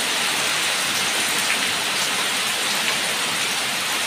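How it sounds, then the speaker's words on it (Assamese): Steady rain falls as a dense, even hiss of drops pattering on surfaces, close and constant for the whole stretch with no voices or other sounds. "এতিয়া বৰষুণ দিয়াৰ কাৰণে"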